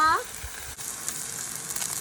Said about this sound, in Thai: ย่างให ้มีสีสวยงามและมีกลิ่นหอมจากกระทะนะคะ